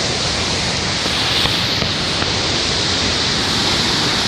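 River water rushing near a waterfall in Mexico, a loud, dense, continuous roar of churning water, steady and close with no pauses.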